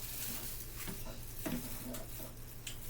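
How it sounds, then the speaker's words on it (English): Creamy spinach pasta is stirred in a pot over a portable cooker, giving quiet, scattered scrapes and soft clatter of the spoon against the pot under a faint background hum. "we're giving our pasta a stir"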